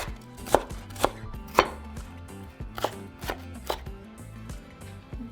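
A knife chops onion on a cutting board for enchilada filling, giving several crisp, irregular thuds, close and loud, with short pauses between strokes.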